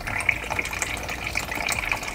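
Thin, steady trickle of water running through an Aragon SE/SSE filter cartridge, a continuous soft flow with faint splashing, close and alone with no talk.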